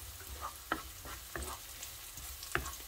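Mixed vegetables for Filipino ginisang gulay sizzle softly in a pan, with several sharp clinks and scrapes of a utensil stirring, quiet and close with no talking.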